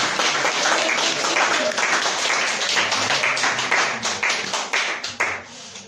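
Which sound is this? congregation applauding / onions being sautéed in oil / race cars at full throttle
congregation applauding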